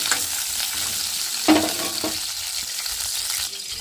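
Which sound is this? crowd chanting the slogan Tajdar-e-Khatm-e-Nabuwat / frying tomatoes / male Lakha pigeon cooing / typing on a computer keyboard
frying tomatoes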